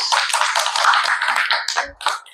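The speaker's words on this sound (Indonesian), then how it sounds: "Aplaus" An audience applauds after a group presentation, a short burst of dense hand clapping that starts at once and thins out over about two seconds.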